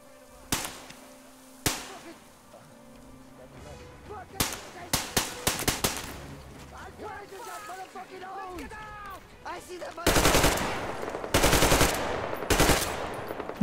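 Gunfire from the Metro Exodus video game rings out in sharp bursts and single shots, loud and close, with a rapid volley near the end, alongside game noises and a few short spoken remarks.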